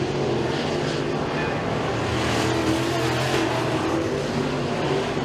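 Race cars on a racetrack during heat races at Freedom Motorsports Park, giving off a continuous loud engine roar with broad noise that swells slightly, steady throughout without clear passes.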